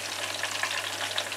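Steady, dense sizzling of sweet potato fries frying in a pan, a continuous crackling hiss with a faint low hum underneath.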